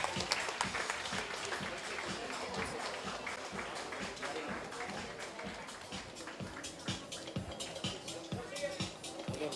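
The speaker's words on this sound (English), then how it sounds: "Give them a big round of applause." Applause for the young winners at an art competition prize distribution held by an educational trust: steady, dense clapping from a crowd carries on throughout, with murmuring voices mixed beneath it.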